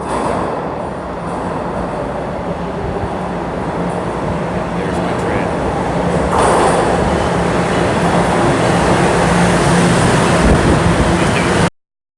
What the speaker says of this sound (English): This is the Osgood subway station.